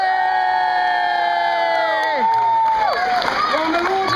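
A crowd cheers and whoops together at a Renaissance festival knife throwing show, loud and sustained, swelling in the latter half over steady background noise.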